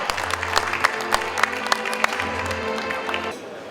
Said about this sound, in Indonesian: Berikan tepuk tangan kepada moderator kita, Bapak Tri Agung K.